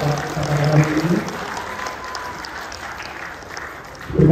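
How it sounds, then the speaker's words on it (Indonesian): An audience at a peace dialogue event claps for two speakers, a moderate spread of applause in a large room, with someone talking at the start and end. "mari kita tepuk tangan yang meriah dulu untuk kedua kita hari ini."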